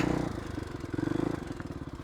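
A motorcycle engine putting along in first gear on a desert trail, a steady low rhythmic chug with some rattling, fairly quiet and close.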